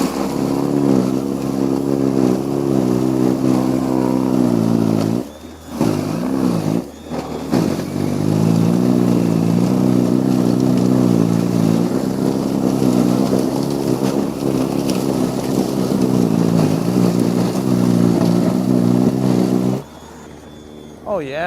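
A SENIX 21 inch X6 battery-powered single-stage snowblower churns steadily through about six inches of fluffy, partly compacted snow, a loud continuous motor drone with two brief dips, and someone talks over it.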